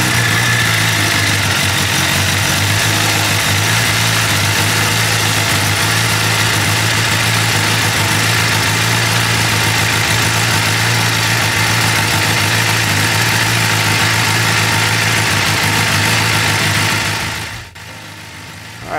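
A Suzuki GSX-R 600/750 motorcycle engine, just refitted with a new stator and cover, runs at a steady loud idle up close for most of the clip, then cuts off abruptly near the end.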